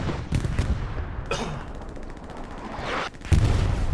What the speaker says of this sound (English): this artillery is just mean